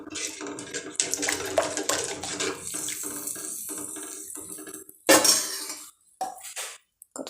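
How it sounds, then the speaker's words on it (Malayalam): Water pours and splashes into a cooking pot for a roasted rava dish, a continuous rushing flow with a few metal clanks near the end, then brief splashes and quiet gaps. "കുറച്ചും കൂടെ വെള്ളം ഒഴിക്കും"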